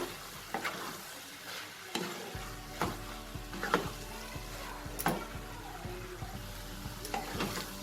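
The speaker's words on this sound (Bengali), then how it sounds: "ডিমটা দিয়ে খুব ভালো করে নাড়াচাড়া করে নেব" Fried eggs and sliced snake gourd are stirred together in a hot pan, a soft sizzle underneath repeated close scraping strokes of a spatula at an irregular rhythm, with no talking.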